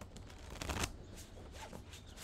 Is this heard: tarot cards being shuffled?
yes